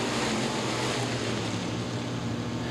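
Fantastic Sams modified race cars charge into turns 1 and 2 at Baer Field Speedway, a dense continuous engine roar from the pack at a distance, steady and loud with no talk.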